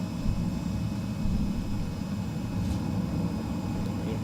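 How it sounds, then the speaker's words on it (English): In Microsoft Flight Simulator 2020, air rushes over a deployed aircraft air brake as a steady, broad, loud whooshing roar with a low engine drone beneath, continuous for the whole stretch. "That's actually the sound of the air rushing across the air brake, slowing the plane down."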